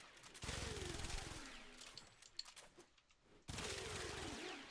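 Rapid automatic gunfire from the video game Warframe in a simulacrum test room, a dense stream of shots that drops away midway and then resumes at full strength.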